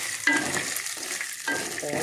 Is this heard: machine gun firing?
no